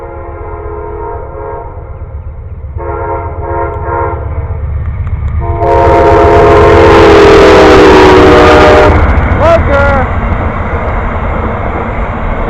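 A passing train's horn sounds in several long blasts, then a loud, close rumble of the train builds and runs past, with rail squeals trailing off at the end.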